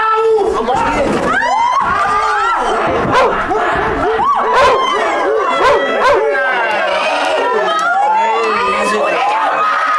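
A dog barks and howls repeatedly in an excited, irregular burst amid a noisy crowd of shouting voices and children, the barks loud and close throughout the ten seconds.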